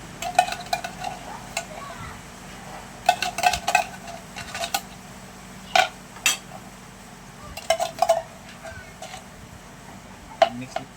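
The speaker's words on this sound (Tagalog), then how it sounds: "Para maghalo-halo yung ating mga ingredients" Ingredients, including pieces of jackfruit, being mixed in a bowl, with irregular clinks and scrapes of a utensil against the dish over a low steady background.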